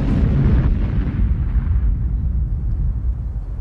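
A massive gunpowder explosion of more than 80,000 pounds, heard as a loud, deep boom that rolls on and slowly fades across several seconds with no voices.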